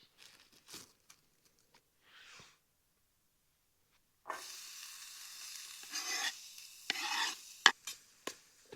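Food sizzling in a pan on a Trangia 27 camping stove outdoors in the desert, soft scattered clicks and scrapes at first, then a steady hissing fry that swells in bursts with a few sharp pops near the end.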